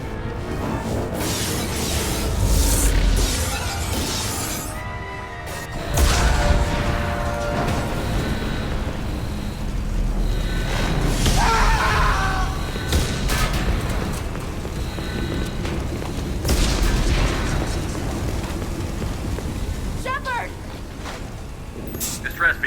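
Starship hull explosions in the Mass Effect 2 video game, a series of deep booms and crashing bursts recurring over about twenty seconds amid rumbling, mechanical noise and alarm-like tones, with voices talking over parts of it.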